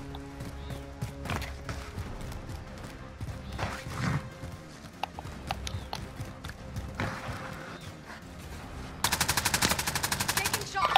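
Gunfire in the video game Call of Duty: Modern Warfare: scattered single shots and short bursts throughout, ending in a loud, rapid sustained automatic burst.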